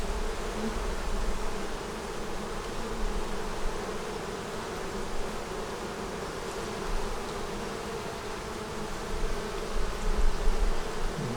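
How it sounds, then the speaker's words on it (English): A steady, dense buzzing of many bees fills the air nearby, droning on without pause or voices. "We've got a bunch of bees here and a bunch of bees up here."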